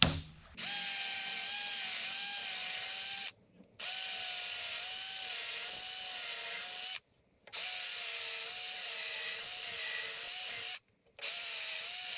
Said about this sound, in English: Time to secure these large Castor wheels.